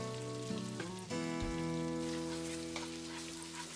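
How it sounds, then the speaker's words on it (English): Chopped garlic cloves sizzle in two large cubes of melted butter for fried rice, a steady crackling fry running throughout with layered tonal hum beneath and a couple of brief bumps, no voices. "fry this until the garlic is nice and brown"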